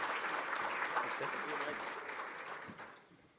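Audience applause greets Bank of Canada Governor Tiff Macklem as he takes the stage for a speech in Saint John, a dense steady clatter of clapping that holds strong and then slowly fades toward the end.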